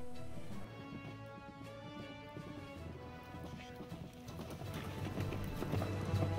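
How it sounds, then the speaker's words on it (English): A galloping horse, evoking Paul Revere's midnight ride, beats out a steady hoofbeat rhythm under a faint background wash, with no talk. "Paul Revere makes his famous midnight ride"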